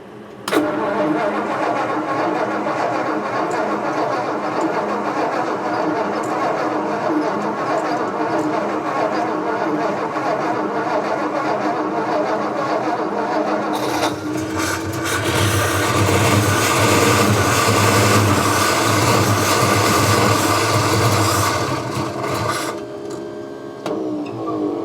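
A 1956 Ford F100 pickup cranks and fires up, settling into a steady idle before the engine note swells louder for several seconds, then eases back to a running idle.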